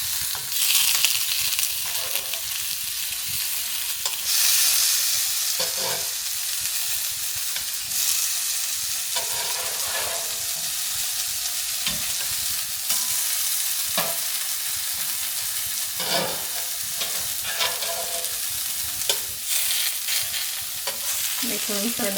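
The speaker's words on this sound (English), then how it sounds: "So we're gonna fry those and flip them." Fish fries in a cast iron pan, a continuous loud sizzle and hiss with occasional louder crackling bursts and stirring scrapes throughout, no voices over it.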